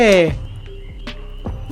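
A frog croaks in the Lost in Play video game, a few loud throaty croaks close up, the first with a bright rising tone, spaced out over a quiet background.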